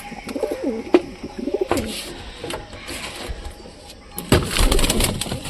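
Pigeons cooing in a cage, low throaty coos near the start mixed with wing flutters and rattling cage noises, growing into a louder burst of flapping and scuffling toward the end.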